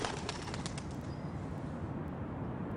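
Pigeons flapping their wings in flight, a dense, steady fluttering rush with a few soft coos, close and continuous for a few seconds with no talking.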